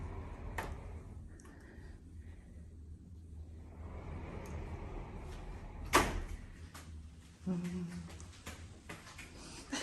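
A hotel room sliding door rolls and knocks quietly nearby, with soft ticks and one sharp thud amid faint room ambience.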